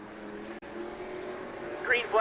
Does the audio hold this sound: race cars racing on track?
yes